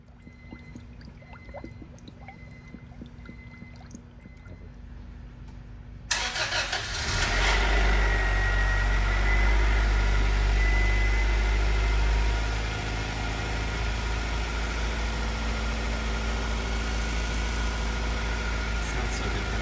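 A 1996 Acura Integra GSR cranks and fires after a quiet stretch, then settles into a steady, loud idle that stays close and continuous, with brief voices nearby.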